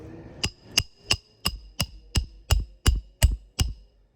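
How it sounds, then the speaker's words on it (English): A hammer driving roofing nails into shingles in a steady rhythm, about ten sharp, loud blows close by, growing slightly heavier toward the end, with no talking. "You can see now that I'm having to hammer even harder"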